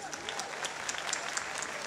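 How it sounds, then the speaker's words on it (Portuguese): A crowd at a local festival presentation gives a round of applause, with continuous, fairly loud clapping and faint voices under it. "vou-te pedir a ti e à malta toda que dê uma grande salva de palmas"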